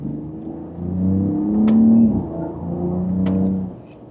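A 2026 Ram 1500 RHO pickup accelerating in sport mode in second gear, its engine rising in a steady rumbling drone that swells, eases, then builds again, heard close from inside the cab.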